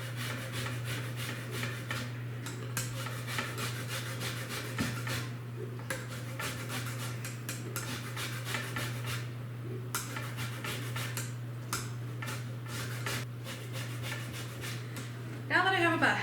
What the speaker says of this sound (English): I'm going to zest half the orange into the batter